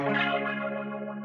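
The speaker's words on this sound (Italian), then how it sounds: "Pitch bend." A short, dense synth tone with heavy effects rings out, its pitch gliding slightly as the sound sustains and decays.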